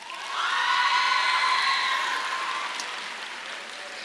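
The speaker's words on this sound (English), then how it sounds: "Give a round of applause for him." A crowd of students and families at a 2019 middle school promotion ceremony cheers and claps for a coach, a swelling wash of shouts and whoops that rises quickly and slowly tapers off.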